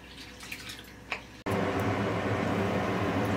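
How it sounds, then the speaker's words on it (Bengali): Red lentils (masoor dal) are washed by hand in a bowl of water in a home kitchen, a few faint drips giving way to a steady, close, full swish and splash of water that continues without talk. "আর আমি এখন ডালটাকে ধুয়ে নেব। ভালো করে চটকে চটকে ধুয়ে সিদ্ধ বসিয়ে দেব।"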